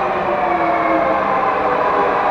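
A Budapest M3 metro train runs with a loud, steady rumbling roar heard from close by, with no breaks or talk.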